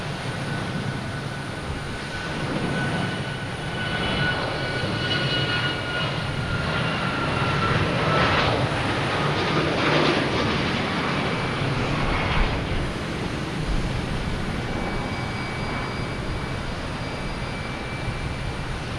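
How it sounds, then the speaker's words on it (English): A United Airlines Boeing 737 MAX 9 takes off from Boston Logan Airport, its jet engines a steady, broad roar that swells slightly midway and holds for the whole stretch, heard from a moderate distance with no voices. "Next taking off United Airlines, 737 MAX 9, heading to LAX."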